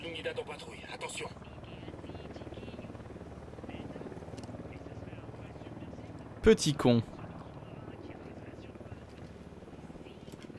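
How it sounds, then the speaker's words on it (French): A patrolling enemy helicopter from Ghost Recon Wildlands gives a low, steady rotor hum far off in the game's background, while someone speaks briefly and a short burst of louder noise cuts in partway through. "Hélico de l'Unidad en patrouille, attention."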